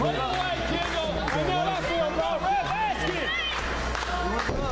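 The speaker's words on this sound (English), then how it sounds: "Crowd getting behind Jordan here" Wrestling crowd at a Kyndel vs. Jordan match cheering for Jordan, a steady dense roar of many voices with chanting and clapping throughout.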